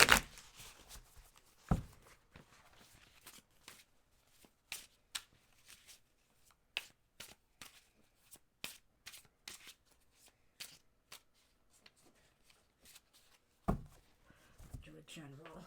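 A deck of tarot cards is shuffled in a quiet room, a long run of soft, crisp riffles and slaps in irregular bursts, close and fairly faint, with no voices.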